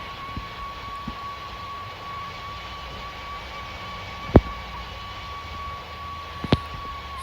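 Airbus A330 airliner cabin during a go-around at Perth, a steady low engine drone with a faint whine and a couple of sharp clicks, no talking.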